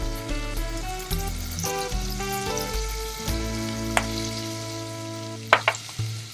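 Paneer pieces fry in a pan with a steady soft sizzle beneath background music, with a few sharp clinks near the end.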